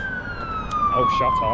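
An ambulance siren wailing past, a single steady falling tone that drops in pitch as it passes, moderately loud over street noise, with a brief spoken voice near the end.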